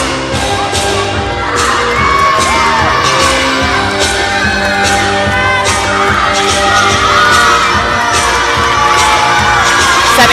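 A crowd at a college gymnastics meet cheers and whoops during a floor routine set to an upbeat 80s music mix, with shouts and rhythmic clapping bursts over the loud music.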